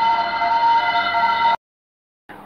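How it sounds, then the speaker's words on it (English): A loud fire engine siren blares with a bright, steady multi-tone wail, stops suddenly, then a brief burst starts again after a pause. "Fire brigade."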